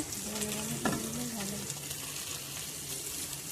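Chilli powder and turmeric masala frying in a pan for a vegetarian aloo paneer biryani, a steady sizzle with stirring scrapes and a sharp clink near the start, with a faint voice in the background.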